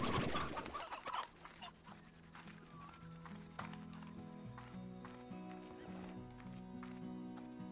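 Cartoonish chickens cluck and squawk in the Slime Rancher video game, with scattered bird calls over a steady synth music bed and game effects.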